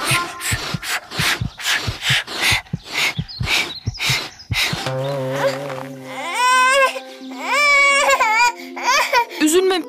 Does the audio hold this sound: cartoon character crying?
yes